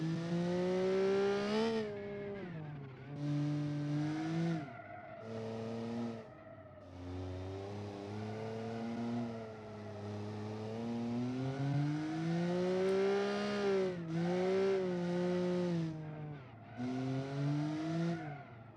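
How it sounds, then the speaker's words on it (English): A drift car in the BeamNG driving game revs hard through repeated gear changes, its engine note climbing and falling in steady waves with some tire noise, loud and continuous. "you do really need to give the engine some time to wind up and make enough power to overcome the traction"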